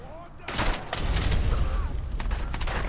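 Rapid bursts of gunfire in the video game Fallout 4, loud and dense crackling volleys filling the short stretch with little pause.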